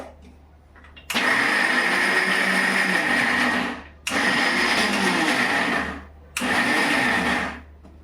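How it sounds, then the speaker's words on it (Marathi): Kitchen grinder pulverising chana dal into a coarse paste for vadi, three loud whirring bursts separated by short pauses, each running for a few seconds. "ही डाळ आपल्याला बारीक करून घ्यायची आहे वड्यासाठी"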